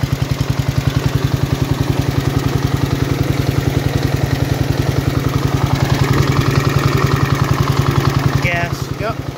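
A John Deere lawn tractor engine, its idle jet screwed all the way in, runs close by with a steady, rapid thumping idle, evenly pulsed and loud from start to finish, with a brief higher rattle near the end.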